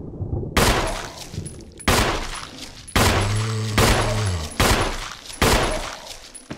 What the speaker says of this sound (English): I love how meaty the bullet impacts sound in this compared to the original game